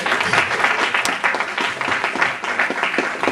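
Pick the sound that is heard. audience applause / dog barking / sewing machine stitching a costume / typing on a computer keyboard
audience applause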